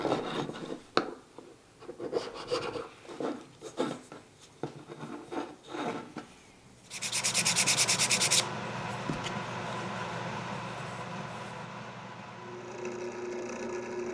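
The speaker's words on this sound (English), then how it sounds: "When they're dry, I'll trim off the extra stuff and sand it down." Wooden splines trimmed flush and sanded down on a handmade wooden Three Men's Morris game board: irregular rubbing strokes for several seconds, then a steady, louder abrasive sanding run that continues at a lower level to the end.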